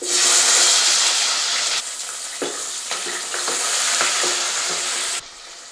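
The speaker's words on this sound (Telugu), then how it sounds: "ఇప్పుడు ఉల్లిపాయలు వేసుకుందాం" Onions dropped into hot oil already holding mustard seeds and green chilies, a loud dense sizzle with a few stirring scrapes, easing slightly near the end, up close.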